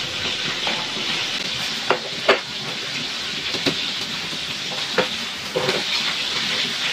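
Meat being stirred and cooked in a pot, with a steady sizzling hiss broken by scattered scraping clicks of the stirring utensil, close and fairly loud throughout.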